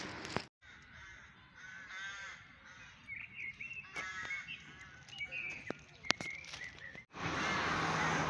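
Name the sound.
crows in a tree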